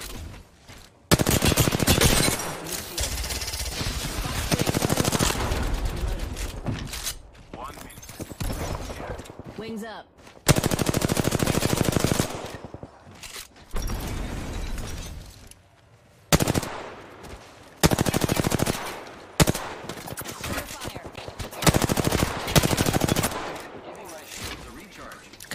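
Gunfire in the battle royale video game Apex Legends, bursts of rapid automatic shots in several separate volleys with short quiet gaps, while players talk over the action.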